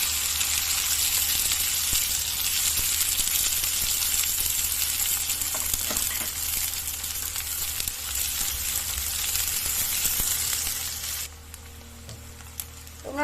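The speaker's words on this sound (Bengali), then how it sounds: "তেল গরম হয়ে গেছে, এর মধ্যে দিয়ে দেবো আমি 1 চামচ জিরা, 2টো শুকনো লঙ্কা। এর মধ্যে দিয়ে দিচ্ছি পেঁয়াজ।" Cumin seeds, two dried red chillies and onion frying in hot oil for an okra masala, a steady close sizzle with some stirring that drops quieter near the end.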